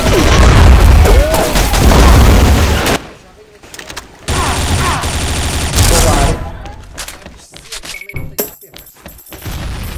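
Rapid bursts of video game gunfire and booming blasts, loud and close, with a quieter stretch in the middle and scattered shots toward the end.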